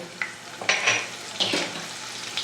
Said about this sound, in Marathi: आपले जिरे फुललेले आहे आता यात मी कापून ठेवलेल्या मिरच्या टाकते